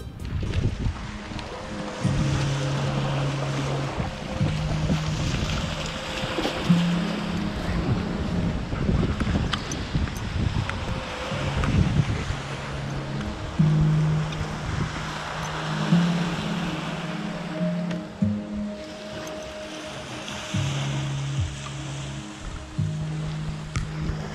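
Surf washing onto a beach with wind buffeting the microphone, a steady broadband roar with swelling waves throughout, while a German Shepherd runs along the shore.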